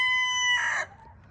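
A rooster lets out a single short, clear crow that rises and cuts off after under a second, fairly close, followed by a quiet background.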